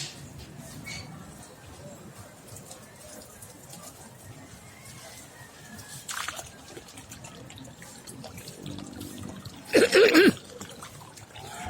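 Tap water runs in a low, steady trickle while a pet goose is bathed, with soft background noises and a brief louder splash near the end.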